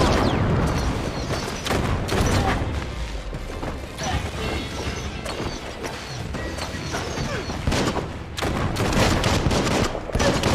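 Rapid gunshots and crashing impacts from the video game Biomutant, a dense, loud run of overlapping bursts and smashes with no talking.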